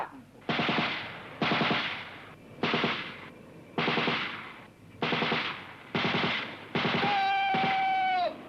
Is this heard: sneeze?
no